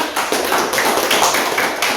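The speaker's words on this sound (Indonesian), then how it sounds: "Kita beri tepuk tangan kepada kelompok 3." Applause from a classroom audience for a presenting student group, a steady burst of dense clapping that fills the moment with no voices over it.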